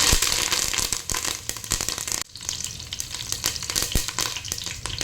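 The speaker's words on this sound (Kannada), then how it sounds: "ಇನ್ನು ನಾನು ಕರಿಬೇವನ್ನು ಹಾಕ್ತೇನೆ." Curry leaves added to hot oil with popped mustard seeds sizzle and crackle loudly and steadily, a dense frying hiss with a brief dip midway, close to the pan for a village-style fish curry.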